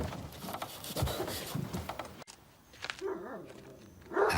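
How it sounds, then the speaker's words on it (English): A dog barks and whimpers in a film scene, a few short yelps and whines at moderate distance over a background of muffled ambience and faint voices. "And then she heard the dog."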